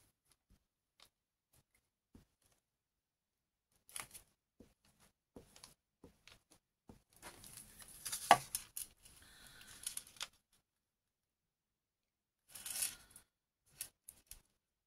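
Scissors cut envelope paper up close, with sparse single snips early on followed by denser bursts of crisp snipping and rustling, then a short final flurry, and no talking.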